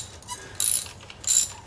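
A ratchet wrench with a thin-walled socket breaking loose a spark plug on a BMW F32 435i with the N55 engine, giving two short bursts of quick metallic clicking, close up and with no talking.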